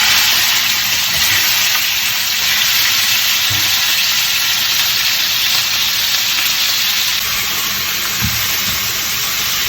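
Chicken sautés in a hot pan for a Pakistani lamb keema dish, giving a loud, continuous hissing sizzle that stays even throughout with no talk.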